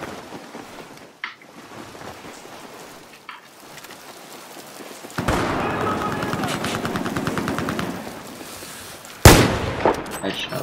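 Machine gun fire rings out in Battlefield 4 on Xbox One: scattered distant shots early on, then a dense burst of rapid automatic fire and a loud sharp blast near the end.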